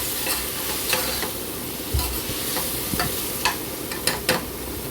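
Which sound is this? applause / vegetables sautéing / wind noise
vegetables sautéing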